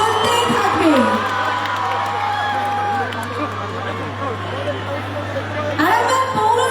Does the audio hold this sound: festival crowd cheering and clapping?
yes